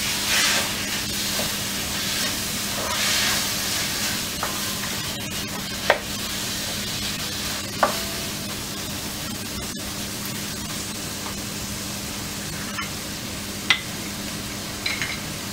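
Tomato cooking in a pan for sarson da saag, a steady close sizzle and hiss carrying throughout, broken by a few soft spoon clicks and stirs, no talking.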